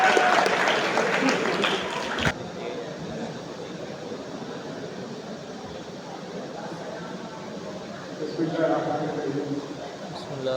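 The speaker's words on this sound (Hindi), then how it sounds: "बहुत सारी तालियों में" Crowd applause for a school principal at a Pakistani Independence Day gathering: loud, dense clapping for the first couple of seconds, then a quieter room murmur with a brief swell of noise near the end.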